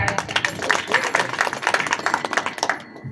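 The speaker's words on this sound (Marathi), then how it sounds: "दोघांसाठी टाळ्या." Handclapping from the gathering at a devotional kirtan in Alandi comes as a quick, rhythmic string of claps mixed with voices.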